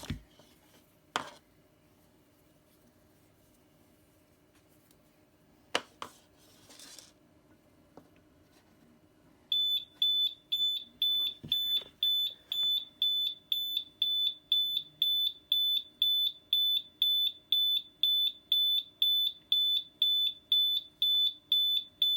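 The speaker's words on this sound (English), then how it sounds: "So the alarm isn't actually as bad as I thought it was" Eve Water Guard water leak alarm going off indoors: after a few faint clicks and handling knocks, a piercing high electronic beep repeats in rapid regular pulses, loud and steady with no voices.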